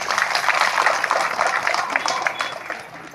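An audience claps at a special social-audit village assembly meeting of Keeranur panchayat, a dense, sustained patter of many hands that fades slightly toward the end.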